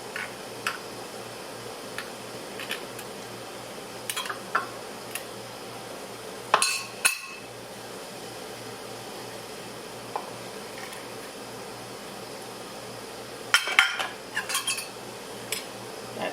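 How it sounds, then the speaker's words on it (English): A knife scrapes and taps against the inside walls of glass jars packed with canned peaches, giving sparse, light clinks and ticks with a few clustered bursts over a steady low background hum. "I'm going to take a knife and put it down the sides of the jars to try to get up as much of the air out as I can"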